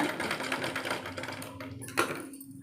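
A sewing machine runs a rough stitch along the folded neck edge of a blouse, its steady rapid whirring needle rhythm continuing close-up for the whole stretch and easing off near the end.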